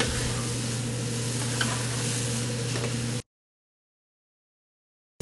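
A spoon stirs chili with browned meat in a pot, a close, continuous scraping and sizzle for about three seconds before the sound cuts out to silence; no talking.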